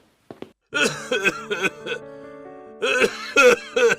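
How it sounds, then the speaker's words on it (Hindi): Several harsh, throaty coughs come in quick bursts, a pause, then another loud cluster of coughing close to the listener. "उन्हें बहुत तेज खांसी आ रही है"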